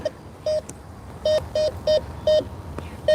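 A Bounty Hunter Tracker metal detector sounds a series of short, regular electronic beeps during a morning coin hunt, about seven evenly spaced tones over background hiss, close and clear.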